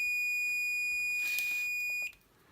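A multimeter gives a continuity beep while probing a trace on a PET business keyboard, one steady high electronic tone held for about two seconds before cutting off, with faint handling clicks.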